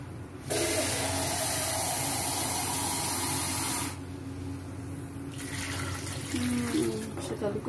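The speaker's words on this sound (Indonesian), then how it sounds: "Tambahin air dulu." Water pours from a tap into a cooking pot for papaya lodeh, a loud, steady splashing hiss lasting several seconds that cuts off and then gives way to quieter running water, with a voice talking faintly underneath.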